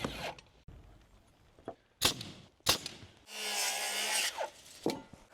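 Wood being cut with a saw for wall framing on a house build: several short rasping bursts, then one sustained loud cutting stretch near the middle, with brief knocks between them.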